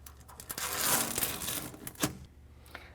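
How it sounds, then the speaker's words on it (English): Protective film is peeled away from a plastic canister of a RetraxOne tonneau cover on a 2013 Toyota Tundra, making a close, crackling tearing rasp that builds, then ends with a sharp pull and a few small ticks. "peel away the protective film that covers up the canister"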